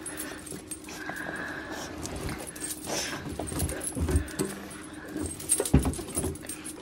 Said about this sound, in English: I've got a little puppy helping me today.